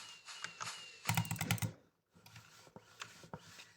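Clicky keystrokes on a new mechanical keyboard, typed close up in irregular bursts with a dense flurry of fast presses in the middle and a brief pause before more scattered taps.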